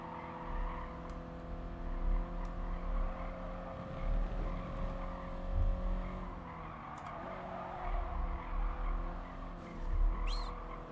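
In the racing game GT Sport, a car's engine drones with shifting harmonic tones while tyres squeal and scrub through corners in repeated surges, and a few sharp clicks and chirps sound over a steady low rumble, with no talking.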